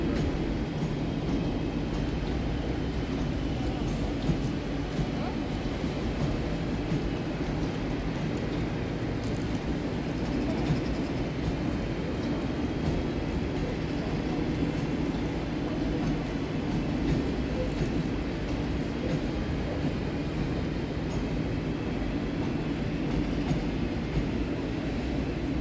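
A West Midlands Railway train, a Class 323 electric unit, moves through Birmingham New Street station with a steady low rumble and faint wheel clatter, the noise continuous and even throughout under the station's enclosed reverberation.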